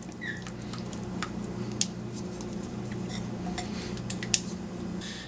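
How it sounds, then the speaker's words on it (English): Coleslaw dressing being mixed into shredded cabbage in a bowl makes soft, steady squishing and stirring with occasional light clinks of a utensil against the dish. "Now that we've mixed up the sauce for our coleslaw, it's time to add it to the cabbage."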